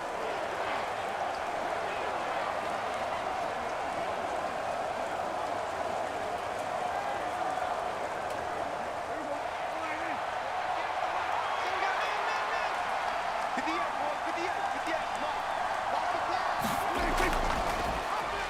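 Stadium crowd noise from a Madden NFL football game between the Dallas Cowboys and New York Giants, a steady broad roar holding throughout, with a commentator talking over it.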